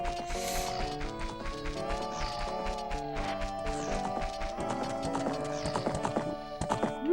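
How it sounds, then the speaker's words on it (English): Hooves of the horse Epona clip-clop steadily in Zelda: Ocarina of Time, joined by a whinny and game music, with a brief voice over the top. "What's up, horsey?"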